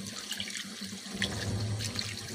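Water splashes and pours steadily over bean sprouts in a pot or basin, a close, continuous rushing that thickens partway through.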